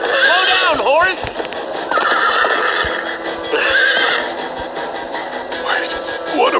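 A horse neighs loudly with falling whinnies over constant galloping hooves, while voices talk in the dense, busy mix from Minecraft Story Mode.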